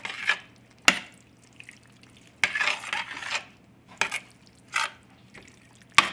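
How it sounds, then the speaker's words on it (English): American goulash is stirred in a pot, a spoon scraping and clinking against the metal in irregular bursts with soft wet sloshing between strokes; no one speaks. "I'm just stirring this all together"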